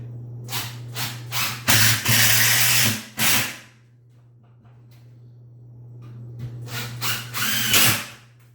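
A power drill drives screws into a bed frame in loud, close bursts: several short whirs, a longer run, a pause with low hum, then another series of revving bursts.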